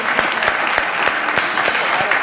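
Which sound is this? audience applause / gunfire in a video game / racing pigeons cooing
audience applause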